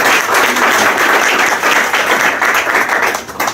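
Conference audience applauding warmly, a dense, loud, continuous wash of many hands clapping that holds steady throughout.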